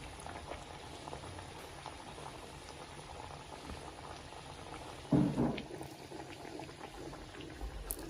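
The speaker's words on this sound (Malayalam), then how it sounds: "നല്ല എണ്ണ തിളക്കുന്ന കാണുമ്പോൾ മനസ്സിലാവുമല്ലോ, നല്ല ചൂടായ എണ്ണയാണ്." Hot oil bubbles steadily in a pan for frying parippu vada, chana dal fritters, a soft continuous crackle with a brief louder splash of sizzling midway, no talk.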